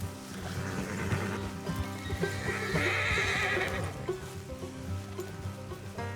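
In Red Dead Redemption 2, a horse whinnies loudly over a steady clip-clop of hooves, with a soft patter in the background.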